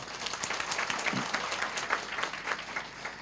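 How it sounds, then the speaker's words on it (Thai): Modest audience applause at a seminar, a soft, steady patter of clapping from a room of listeners, fairly distant and even throughout. "เห็นด้วยปรบมือให้คุณด้านหน้านี่ฮะ"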